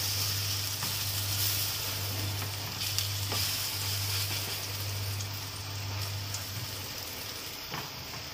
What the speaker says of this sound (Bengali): এই পিঠটাও কিন্তু গ্যাসের ফ্লেমটা আস্তে দিয়েই ভেজে নেবো